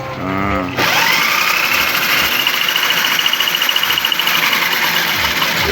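A homemade milling machine grinding turmeric with herbs such as oregano and moringa starts up after a short tone and then runs as a loud, steady whirring motor with rapid rattling.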